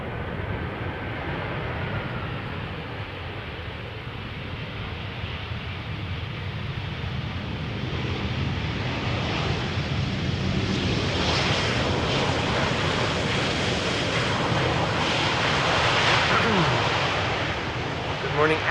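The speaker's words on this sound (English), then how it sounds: "Air France, flight 1444," An Air France Airbus A320 jet arriving at Schiphol's Polderbaan from Paris, its broad engine roar swelling steadily louder over the clip and staying strong to the end, with a voice talking over it.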